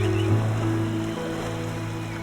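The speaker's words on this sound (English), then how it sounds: "As the rain intensifies, sheets of water pour into the river and swell it relentlessly." Steady, dense rushing of water as heavy rain pours into a swelling river, a continuous broadband roar with a low rumbling undertone, loud and close throughout with no voices.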